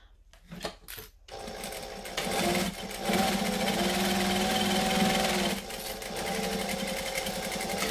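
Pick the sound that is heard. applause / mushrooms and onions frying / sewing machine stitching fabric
sewing machine stitching fabric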